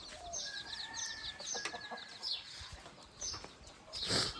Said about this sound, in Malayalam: കോഴി കുഞ്ഞുങ്ങളാട്ടോ